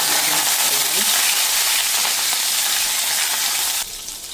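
Curry leaves hit hot oil during a tempering of fenugreek, urad dal and chana dal for amla chutney, giving a loud, dense, steady sizzle that drops abruptly to a softer hiss at the end.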